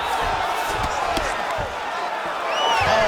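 UFC video game arena crowd giving a loud continuous roar of cheering and shouting that swells again toward the end, with faint thuds of strikes underneath.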